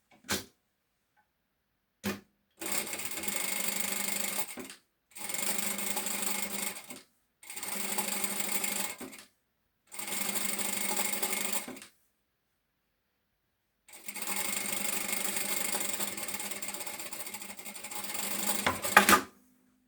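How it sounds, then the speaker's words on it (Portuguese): A sewing machine topstitches along the top edge of a shoulder bag lining in five separate bursts of fast, even stitching, close and alone, with a brief tap first and short silent pauses between runs. "vou passar uma costura à beirinha no forro na parte de cima"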